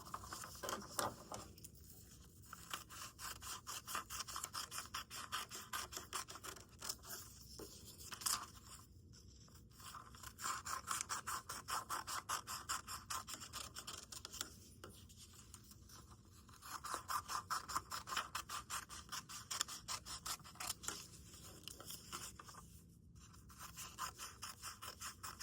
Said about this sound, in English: we are going to cut along these lines and stop right there